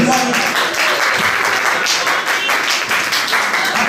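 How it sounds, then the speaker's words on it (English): Sustained crowd applause, dense and steady clapping throughout, with faint voices mixed in underneath. "Give him a round of applause, please."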